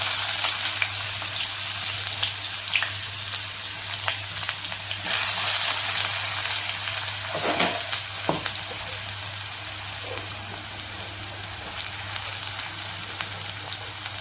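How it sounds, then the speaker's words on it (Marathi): Onion frying with cumin in hot oil, a steady close sizzle and crackle that holds throughout, with a few scraping stirs partway through and no voices. "तेल गरम झालं, जिरे टाकले, त्यानंतर हे कांदा टाकला,"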